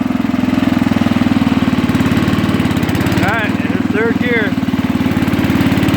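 A Sears Custom clone garden tractor engine runs in third gear high at barely open throttle, a loud rapid chugging drone that persists throughout while someone talks over it briefly.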